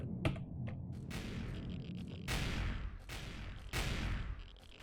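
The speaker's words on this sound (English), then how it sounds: "Sounds like my facility's cannons have this well in hand." Base cannons fire in the space survival game Empyrion: Galactic Survival, several sharp, fairly faint blasts in an irregular sequence with short gaps between them.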